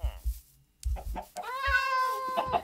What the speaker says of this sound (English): There's kitties all over the place.